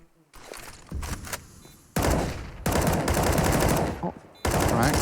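Rapid bursts of automatic rifle fire and single shots during a professional Counter-Strike esports match, loud and close, broken by brief lulls between exchanges.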